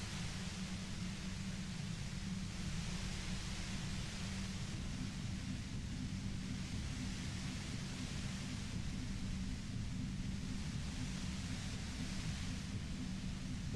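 Steady white noise heard in the video game Disco Elysium, a dense, unbroken hiss with a rumbling low end, constant in level from start to finish with no voices.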